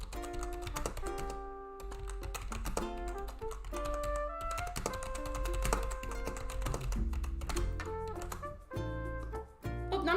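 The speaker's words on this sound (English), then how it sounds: "I was typing really fast and I put a P instead of an O in the word house" Fast computer keyboard typing, a steady stream of quick key taps running through the whole stretch under a constant layer of background music.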